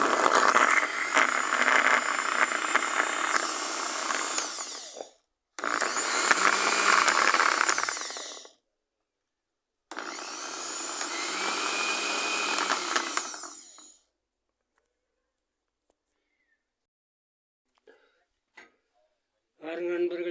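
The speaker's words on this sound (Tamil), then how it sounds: "மிக்சரில் போட்டு நல்லா அரைச்சிட்டேன்" An electric mixer grinder grinds fish curry masala in three loud, steady bursts of about five, three and four seconds, separated by short pauses, followed by faint clicks as it stops.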